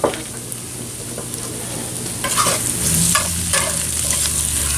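Onions sweating in a cast iron pan give a steady low sizzle, with stirring scrapes and clinks coming in partway through and the frying growing slightly louder.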